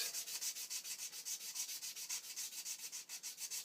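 A Tilley lamp part is rubbed gently by hand with fine 320-grit wet-and-dry abrasive paper used dry, giving a quiet, steady rhythm of soft scratchy strokes, close up, with no voices.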